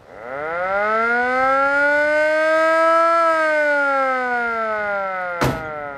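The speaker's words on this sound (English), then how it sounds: "That's the original siren." Original mechanical siren on a 1950 Ford F7 fire truck with a flathead V8 winding up into a loud, sustained rising wail that holds and then slowly sags, ending with a short thump.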